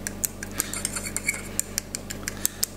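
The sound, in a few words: scrunching whole tomatoes with a fork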